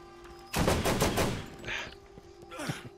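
Automatic gunfire bursts loudly in the Borderlands shooter, a dense rattling volley of rapid shots lasting under a second, followed by a quieter short burst and a fading impact.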